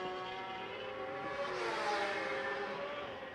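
A racing motorcycle at the Macau Grand Prix street circuit passes with a high, whining engine note that swells as it nears and then fades, heard at a moderate distance.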